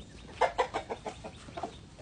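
Hens cluck near a farm coop, a quick run of soft, close clucks with a short pause and a few more at the end.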